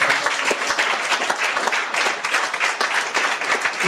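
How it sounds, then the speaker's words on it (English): A crowd claps steadily in a sustained round of applause for a priest who has just finished speaking, dense overlapping hand claps filling the room at an even, fairly loud level throughout. "Please, I think Friar deserves a better round of applause."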